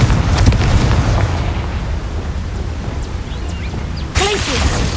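Fiery Confringo spell explosion in Hogwarts Legacy, a dense rumbling burst over continuous low game noise, followed by a sharp brighter blast near the end.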